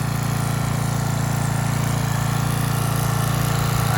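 The small engine of a salvaged, once-trashed pressure washer runs steadily with a close, buzzing drone and no pauses, its auto choke held wide open.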